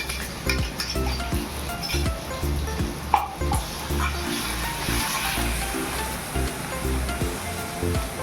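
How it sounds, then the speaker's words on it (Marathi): Ginger, garlic, chili and coriander paste sizzling in hot oil in a pan, with a steady crackle and occasional stirring clinks, loud and close. "तेल गरम झालंय, त्याच्यामध्ये मी जी आपण चटणी बनवून घेतली, आलं, लसूण, मिरची आणि कोथिंबीरची पेस्ट"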